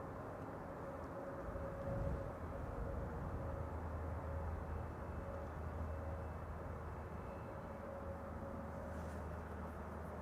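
A DHL cargo aircraft taxis across the runway at Amsterdam Schiphol Airport, giving a steady, fairly distant turbine drone and low rumble that holds at an even level throughout, with no voices.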